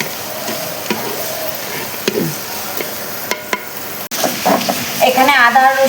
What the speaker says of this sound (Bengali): দেখো পেঁয়াজটা ভাজা হচ্ছে।